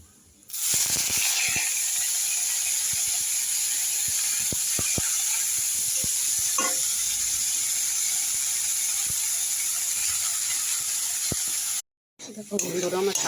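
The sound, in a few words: leafy greens frying in a pan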